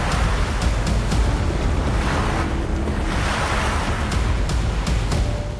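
Sea waves wash continuously around an island, heard from a boat on rough water, with a loud, steady roar of surf and wind buffeting the microphone and no voices.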